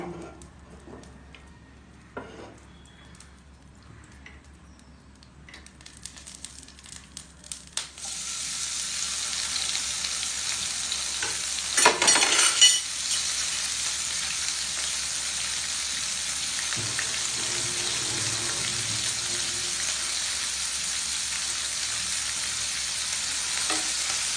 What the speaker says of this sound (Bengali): তাওয়ায় এখন একটু তেল দিয়ে দিচ্ছি দিয়ে চিংড়ি মাছগুলো ভাজি করে নিয়ে